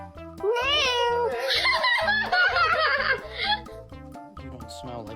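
A cat meows in a string of rising, wavering cries over a steady pulsing musical beat, then the calls fade and the rhythm continues alone.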